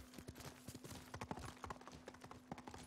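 A horse's hooves clop along in Ghost of Tsushima in a quick, steady, close rhythm that runs throughout, with a faint constant hum underneath.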